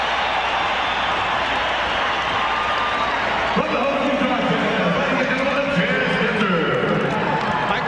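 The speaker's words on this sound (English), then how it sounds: "And the Delta Center crowd loves it" Arena crowd at the Delta Center during the 1993 NBA All-Star Game roars steadily throughout, a dense continuous cheer that swells midway, with an announcer's voice talking over it.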